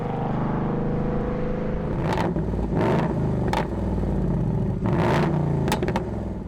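A 2019 Ford Mustang Bullitt engine rumbles deeply with several sharp revs and exhaust bursts rising and falling, loud and close, with no talking.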